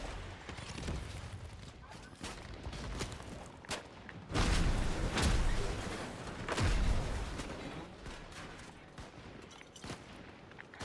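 Gunfire in a Fortnite match crackles in scattered sharp reports, swelling into louder dense volleys midway, mixed with game noise and a player's voice talking.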